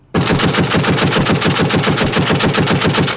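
A machine gun fires a long, rapid, unbroken burst of sharp shots, emptying a 100-round box, loud and close, with a steady rattling rhythm.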